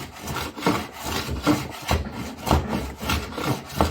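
Hand plane shaving a live edge cedar board, repeated rhythmic rasping strokes about every half second, close and moderately loud with no talking.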